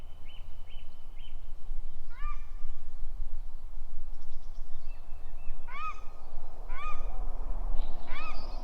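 Several Canada geese honk in short bursts against a steady outdoor rumble, some calls nearby and others answering, spaced irregularly.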